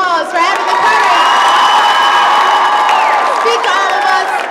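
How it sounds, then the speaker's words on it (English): At a school choice rally, a large crowd cheers and applauds a student speaker. Loud whoops and shouting ride over steady clapping, and the noise stays high and sustained for the whole stretch. "I think we need to give him another round of applause for having the courage"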